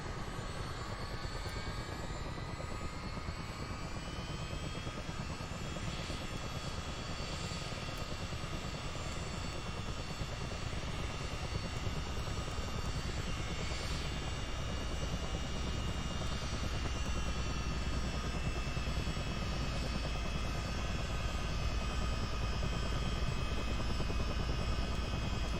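Continuous loud engine whine and rotor drone of a CH-47D Chinook helicopter in Microsoft Flight Simulator, steady and close throughout with a high-pitched turbine tone.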